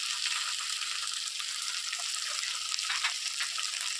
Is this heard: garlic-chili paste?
yes